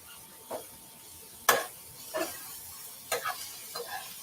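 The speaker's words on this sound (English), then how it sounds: "I'm going to stir our zucchini now." Zucchini stirred in a pan for a plant-based dish: a few short, soft scraping strokes spaced about a second apart over a faint, steady sizzle, with no voices.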